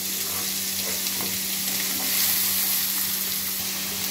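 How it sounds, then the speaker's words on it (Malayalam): Chopped onion sizzles steadily in hot oil in a pan while cooking a fenugreek and green pea cream curry, with a loud, even frying hiss and no voices. "അപ്പോഴേക്കും നമുക്ക് അരിഞ്ഞു വെച്ചിരിക്കുന്ന ഒരു വലിയ സവാള നമുക്ക് ഇതിനകത്തേക്ക് ഇട്ട് കൊടുക്കാം."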